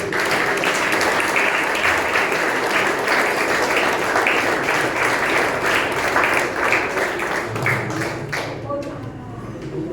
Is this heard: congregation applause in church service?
yes